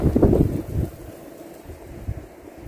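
Strong wind in snowy weather buffets the microphone in loud rumbling gusts, strongest at the start, then settling into a steady low roar.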